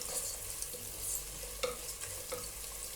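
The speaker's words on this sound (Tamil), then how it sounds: "இப்போ வெங்காயம் நல்லா வதங்கட்டும், நல்லா பொன்னிறமாகணும்" Onions and cashews fry in hot oil for biryani, giving a soft steady sizzle with a few light stirring scrapes, close and fairly quiet.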